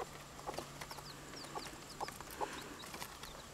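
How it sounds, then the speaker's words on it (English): A hen softly clucks to her small bantam chicks, with short low clucks scattered among thin, high chick peeps, all faint and close in a quiet farmyard. "She's yapping to her chickies."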